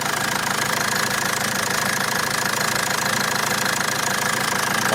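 A Mercedes engine runs steadily after a cylinder head thread repair, a continuous, even mechanical hum with a faint ticking rhythm, heard close up with no talk.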